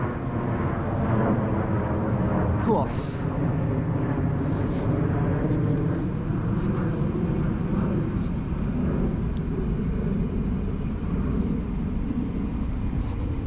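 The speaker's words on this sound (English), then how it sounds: "Look at that plane." An airplane passes overhead, a steady, broad engine roar that fills the whole stretch without fading, with a single brief spoken word near the start.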